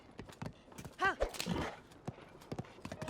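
Hooves of a horse clip-clop in quick, uneven steps in The Legend of Zelda: Tears of the Kingdom, with a brief whinny-like call partway through, fairly faint and close.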